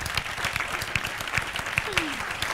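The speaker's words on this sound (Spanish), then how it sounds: "un aplauso para ellos" A small audience claps for contestants after a tie in a talent contest, a short run of moderately loud, fairly sparse hand claps at a steady rhythm.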